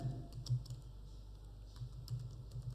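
Computer keyboard typing during data entry in an Excel spreadsheet, a quiet run of soft, irregular key taps with a few louder presses, close by and alone.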